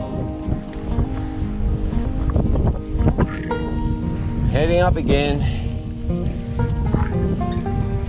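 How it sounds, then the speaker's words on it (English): Gusty wind buffets the microphone during fat bike touring in the Australian Alpine, a loud continuous rumble throughout, with someone speaking briefly over it and a few high whistling tones in the middle. "Bit of a wind at the moment."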